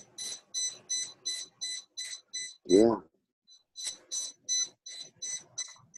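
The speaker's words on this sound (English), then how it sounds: "You hear it beeping?" Rapid bursts of high electronic beeping repeat steadily, pausing briefly while someone says a short word, then resuming in the same quick rhythm.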